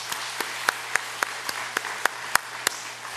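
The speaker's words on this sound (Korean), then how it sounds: "여러분, 우리 박수 한번 칩시다." A church congregation applauding during a Sunday worship service, a moderate scattering of hands clapping with a few sharper claps standing out, fairly even and sustained over a low steady hum.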